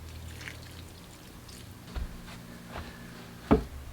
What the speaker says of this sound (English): I'm going to kind of clean this off with a little bit of water